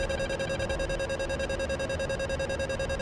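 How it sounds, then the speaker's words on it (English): A cockpit buzzer alarm sounds in an A-10C during a DCS flight simulation, a steady electronic tone pulsing rapidly and evenly for the whole stretch, loud and alone with no talk. "Buzzer on."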